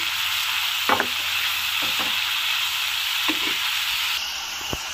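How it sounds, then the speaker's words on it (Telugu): Four large tomatoes sizzle steadily in a pan as they cook down soft, a constant bright frying hiss with a few spoon scrapes and clinks against the pan. "టమాటా మెత్తబడేంత వరకు బాగా మగ్గనిద్దాము"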